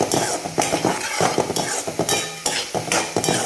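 Capsicum sautéing in a pan while being stirred, with loud continuous sizzling and rhythmic scraping and clinking of a spoon against the pan, close and without talking.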